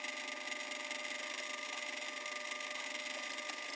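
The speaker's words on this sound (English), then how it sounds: "Got the holes drilled." A drill boring holes through a metal plate for a DIY CO2 laser cutter's gantry, heard as a steady, continuous whirring drone with a high whine and no pauses or talking.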